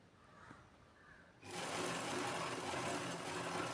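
A sewing machine runs steadily, stitching blouse cloth for a princess-cut blouse; a quiet lead-in gives way at about a second and a half to a loud, continuous mechanical whir that holds to the end.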